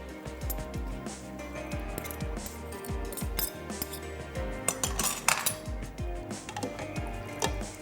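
Metal utensils clink and scrape against a pot as boiled noodles for vegetable chow mein are tossed with a little oil, producing a quiet, close, irregular run of taps and clatters.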